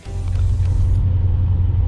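A car driving on the road after rear end repairs, with a steady, loud low engine and tyre rumble throughout and no scraping from the wheels.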